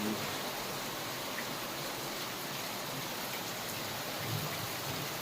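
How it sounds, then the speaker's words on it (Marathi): Heavy monsoon rain in Raigad pours down in a dense, unbroken hiss, steady and loud throughout with no voices. "बघू शकता पाऊस वापस आलेला एकदम जोराचा"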